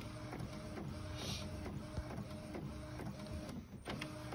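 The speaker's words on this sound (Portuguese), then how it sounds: "ainda tá aqui imprimindo" A home printer running as it prints cards, giving a steady mechanical whir with a repeating rhythmic clatter and feed pulses throughout, fairly quiet and continuous with no talk.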